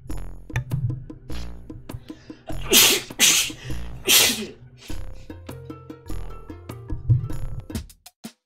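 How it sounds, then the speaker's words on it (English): A person sneezing while playing the video game King Pins, with two loud, sharp bursts in the middle of the sound, set against ongoing electronic game music and tones. "I'm gonna sneeze right now."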